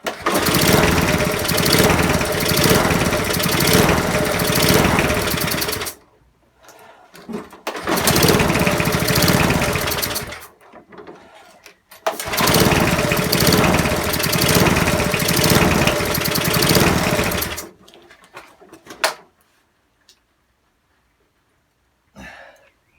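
A broken secondhand lawn mower engine bought online starts and runs loudly in several bursts of roughly four to seven seconds, cutting out between attempts, with a brief sputter before it finally dies away to near silence.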